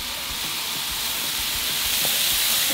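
Steady broadband hiss of water steaming and sizzling on a hot Blackstone griddle under a dome, cooking chicken flatbread, continuous and fairly loud throughout, with faint clicks underneath.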